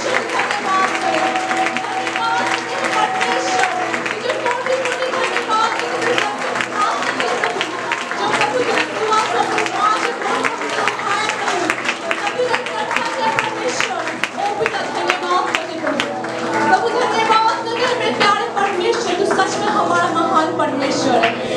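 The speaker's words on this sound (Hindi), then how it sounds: "आइए हमें जोर से तालियां बजाकर" A church congregation claps loudly in thanks to God during a monthly blessings prayer service, a dense, continuous wash of hand claps that runs the whole time, mixed with crowd noise, singing and a voice over the top.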